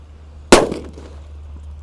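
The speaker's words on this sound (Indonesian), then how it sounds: "Dan ini mercon colorful thunder yang buntelan kertas ya." A paper-wrapped colorful thunder firecracker goes off in a single sharp, loud bang that decays quickly over a low steady background hum.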